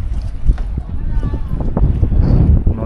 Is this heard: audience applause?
no